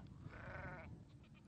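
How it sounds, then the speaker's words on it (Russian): Livestock at a pasture give a single wavering bleat, a quavering mid-pitched call typical of sheep and goats, faint and brief with a couple of softer calls after it. "Овцы обычно шли следом за пастухом, а вот более упрямые козы часто убегали вперед."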